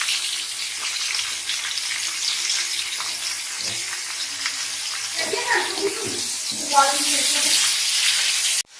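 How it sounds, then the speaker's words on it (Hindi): Eggplant pieces fry in hot ghee in a kadhai, giving a continuous bright sizzle and hiss that swells louder toward the end. "यहाँ पे हमने बैंगन फ्राई करने के लिए रखी हैं"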